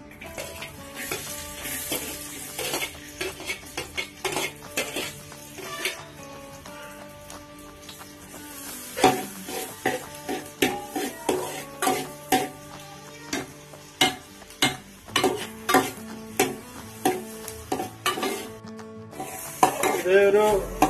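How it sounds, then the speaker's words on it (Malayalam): Onions sautéing in hot oil in a pan for veg cutlet, a steady sizzle under repeated clinks and scrapes of a spoon stirring against the metal pan, close and busy throughout. "ഇപ്പോ എണ്ണ ചൂടായിട്ടുണ്ട് നമുക്ക് അതിലേക്ക് സവാള ഇട്ടിട്ട്"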